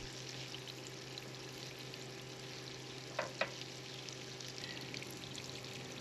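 Butter melting into olive oil sizzles steadily in a non-stick pan as pork chop bits are scraped up, a constant close frying hiss broken by two brief scraping clicks.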